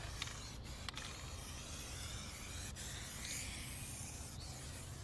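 Spray paint being applied outdoors to a vehicle chassis as a budget coating job, a faint continuous hiss with a few short breaks where the nozzle is released.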